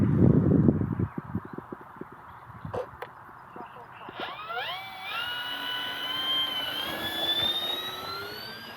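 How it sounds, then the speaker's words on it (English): An E-Flite P-51D Mustang RC model plane takes off on a breezy morning, its electric motor whine rising in pitch and holding steady as it climbs, after some brief handling rustles and thumps. "It's a beautiful morning and it's time to get this P51D up in the air."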